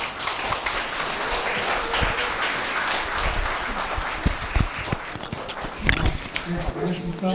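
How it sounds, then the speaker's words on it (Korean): An audience claps to welcome a lecturer onstage at a Newstown awards pre-event, a moderate, somewhat uneven patter with a few sharper claps and some crowd noise mixed in. "박수로 모시겠습니다."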